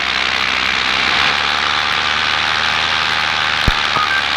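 A paramotor engine idles a little too high outdoors, a steady continuous drone with a faint whine, holding even throughout with a brief sharp knock near the end.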